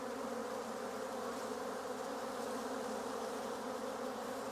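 Honey bees hum steadily from an open hive in a new apiary during a brood inspection, a dense, continuous close-up buzz with no pauses and no voices.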